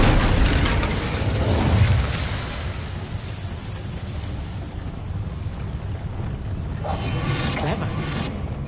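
An Incendio fire spell is cast in the video game Hogwarts Legacy, producing a loud, roaring, explosive burst of flame that swells and then settles into a sustained rumbling crackle lasting several seconds.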